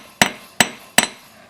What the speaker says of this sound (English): slowly curve it around with my left hand while hammering with my right hand